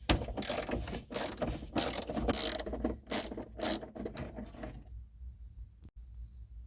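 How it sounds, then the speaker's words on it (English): Ratchet wrench loosening a 7/16 bolt on the dash of a 1970-72 Chevelle, close, rapid clicking bursts in repeated strokes for about five seconds, then near silence. "This is a 7/16. It needs to be removed, and we'll also remove that one."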